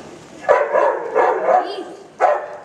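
A dog barks in a stage play, a voice giving three short, close barks in a row. It may be an actor imitating a dog.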